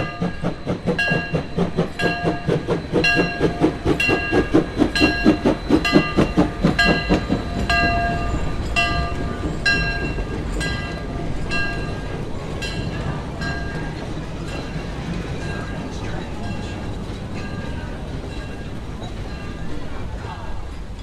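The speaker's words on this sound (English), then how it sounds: "the very engine that left returned from the first trip of the day." A steam train passes close by at Hesston with a loud rhythmic clickety-clack, horn-like tones ringing over it; the rumble steadies into a continuous roar.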